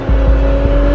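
A McLaren P1 engine accelerating on track, heard as a loud, steady, close engine drone with a sustained tonal whine and low rumbling pulses.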